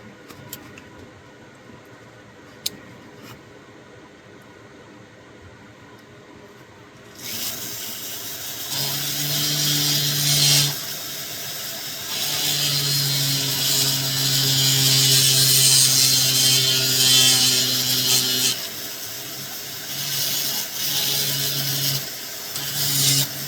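A coarse Nova point in a rotary tool grinds a piece of Deer Creek fire agate, a steady high whirring with droning tonal bands that starts abruptly after a quiet stretch, dips briefly, then runs on loud and continuous.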